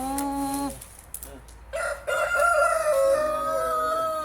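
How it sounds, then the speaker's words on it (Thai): A rooster at a Thai temple in Belgium crows loudly and close by: one short crow, a brief pause, then a second, longer crow that carries to the end, with no talking. "ไก่ขันเสียงดัง"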